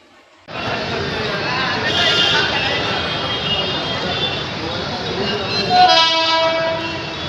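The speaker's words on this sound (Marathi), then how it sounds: "कर्जत ट्रेन आले आता ही आपण ट्रेन पकडून कर्जतला जाऊया" A train bound for Karjat rumbles steadily close by, and near the end a loud horn blares over the noise.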